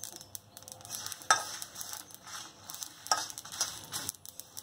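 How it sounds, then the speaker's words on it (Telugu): Sesame seeds, dried chillies and curry leaves crackle in hot oil while tempering for sesame eggplant, a steady dense sizzle with scattered sharp pops and two louder snaps, close by. "చిటపడలాస్తుంది"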